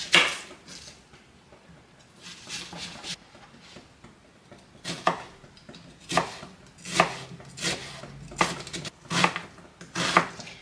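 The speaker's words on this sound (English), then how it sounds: "I'm going to chop up 1 cup of onions" A knife chops onions on a cutting board in irregular bursts of rapid, crisp strokes, close and fairly loud, separated by short pauses.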